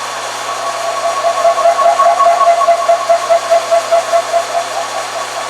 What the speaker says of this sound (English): And we'll drill it to a depth of 750